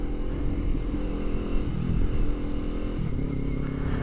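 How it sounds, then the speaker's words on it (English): Motorcycle engine running steadily under load during a clutchless power shift, with a brief dip in drive around the middle and again near the end as the throttle is let off and picked back up, loud and close with no talk. "That's the blip of the throttle it's wanting you to do, or like the let off throttle."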